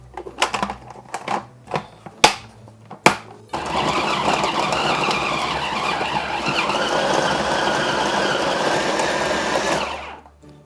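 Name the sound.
food processor chopping dates, apricots and pineapple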